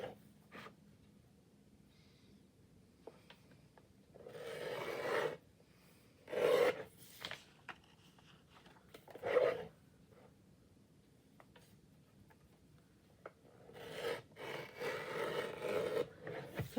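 Scissors rasp and snip through paper being trimmed for a gluebook page, in several short bursts with quiet pauses between, fairly close and moderately loud, no talking.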